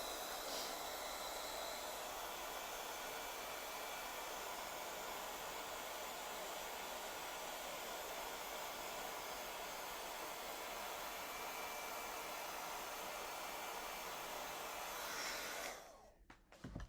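A hair dryer blows a steady, loud hiss of air over wet craft work, running continuously for about sixteen seconds before it is switched off abruptly at the end.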